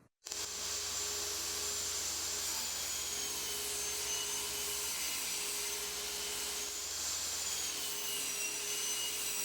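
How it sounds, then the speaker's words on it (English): A table saw runs continuously while squaring the end grain of white oak tabletops, a steady loud whir and grinding hum starting abruptly and holding at an even level throughout. "Now I'm going to run these tops through the table saw just to dust off the end grain side and make sure they're nice and square."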